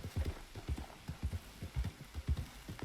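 Horse hooves in Red Dead Redemption beat a steady, rhythmic clip-clop at a moderate pace, close and clear, with no voices over them.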